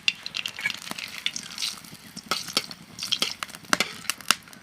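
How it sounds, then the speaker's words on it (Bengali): Dried red chilli, split down the middle, and a bay leaf fry in hot mustard oil in a pan, giving a steady close sizzle with sharp crackles and pops and occasional scraping as the spices are stirred. "তেজপাতা শুকনো লঙ্কা ভাজা হয়ে গেছে"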